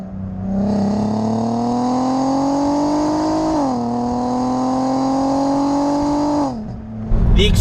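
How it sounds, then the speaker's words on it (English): A VW Golf R32 MK5 with its V6 engine and aftermarket exhaust drones steadily while driving, pitch climbing slowly, dipping once on a shift, then rising again before easing off, heard from inside the cabin. "the V6 sings in this, especially with an exhaust system on it"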